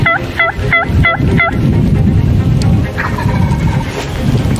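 Wild turkey gobbling during turkey season outdoors, a loud rapid gobble near the start with a fainter call later, over steady wind and background rumble, no talk.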